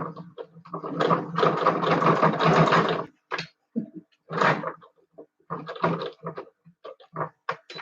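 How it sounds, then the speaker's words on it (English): A sewing machine stitching a collar runs in a long, rapid stitching burst, then stops and starts in shorter uneven spurts, close and fairly loud. "the sewing machine obviously does not like this part"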